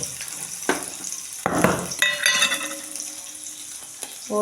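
Ghee heating in a pan before besan is roasted in it, with a soft continuous sizzle broken by a few spoon clinks and scrapes against the metal, fairly close.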